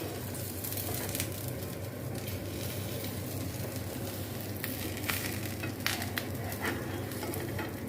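A dosa that is sticking to the pan sizzles while being flipped, a dense continuous frying hiss with small scraping clicks from the turning, steady and fairly close.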